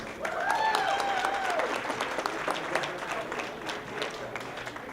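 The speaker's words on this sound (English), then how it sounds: "Give them a big round of applause." Audience applause fills a talent show stage at a college event, a dense sustained clapping wash with crowd noise and a few brief whistles near the start, steady and close for the whole stretch.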